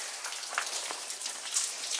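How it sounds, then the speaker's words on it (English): Steady rain falls everywhere around, a dense even patter of drops hitting surfaces with a few sharper splashes, close and continuous with no voices. "It's raining everywhere."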